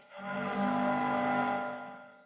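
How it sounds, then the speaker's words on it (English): A Lowrey Marquee organ plays its steamboat sound effect, a sustained harmonic whistle-like tone that swells in and holds steadily for about two seconds before easing off, heard alone. "New steamboat."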